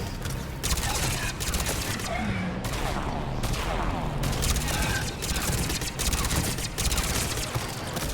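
Rapid automatic weapon fire in the sci-fi shooter Mass Effect 3, loud sustained bursts with brief pauses between volleys, dense and close throughout, with talking faintly underneath.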